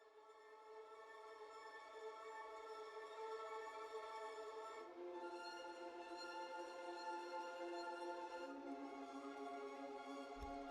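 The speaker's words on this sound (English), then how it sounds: "we also have a patch called the Ricochet" Ricochet chord patch from the Spitfire Audio Albion V library, a sustained synthetic chord texture with rich layered harmonics, shifting to new chords partway through and swelling slowly, heard alone.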